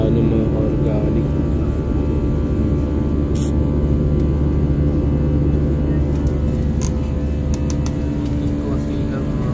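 Steady, loud cabin drone of a passenger airplane in flight, with a dense low rumble holding evenly throughout and a few faint clicks over it.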